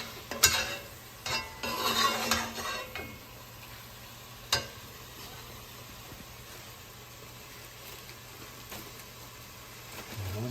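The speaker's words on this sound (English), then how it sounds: "And then I'm going to put in the chopped onions." Chopped onions drop into a hot pan with a rustling burst, and a soft sizzle continues afterward, fainter and steady, with no talk.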